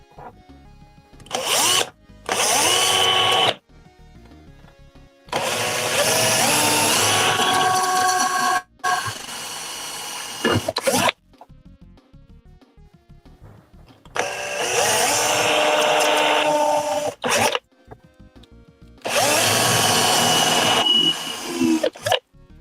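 A power drill driving screws in a workshop, several loud whirring bursts of a few seconds each separated by pauses, close and with no talking.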